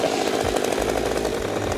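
A chainsaw engine runs loud and close, holding a steady, rough buzz throughout.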